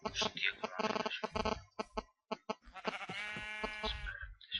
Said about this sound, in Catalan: Les ovelles.